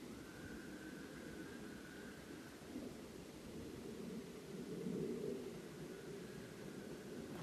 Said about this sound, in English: We got some more airplanes.